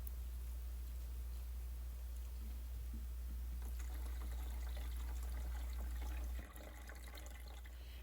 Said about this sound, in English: So let's fill up the water for these 3 trays of lettuce